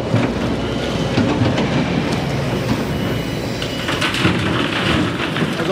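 A rock crusher crushing stone at a work site: a continuous, dense, heavy rumble with gritty grinding clatter, steady and loud throughout with no pauses, and no voices.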